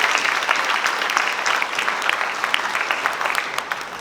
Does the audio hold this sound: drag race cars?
no